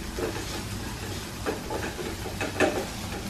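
Onion, green chilli and ginger sauté in a little oil in a pan for a bread-potato ball snack, giving a soft, steady sizzle and hiss. It is faint and close, with a few brief scraping stirs and no voices.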